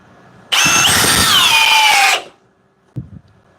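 A cordless drill in drill mode at speed 2, running on a fully charged 6 amp-hour forged battery, whirs up sharply, holds a loud steady high whine for about a second and a half, then spins down, followed by a faint click.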